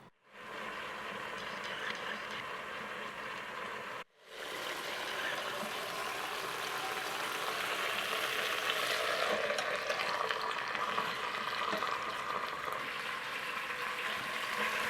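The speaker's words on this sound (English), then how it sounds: "place it in the pot for browning" A roast seasoned with kosher salt and pepper sizzles and spatters as it browns in a pressure cooker pot, a steady crackling fry broken by two brief silent cuts.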